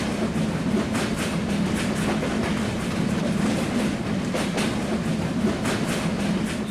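The Kapotaksha Express, a passenger train, crosses a bridge over the Padma river at restricted speed, its wheels giving a steady, loud clickety-clack over a low rumble of rolling carriages, with no talking.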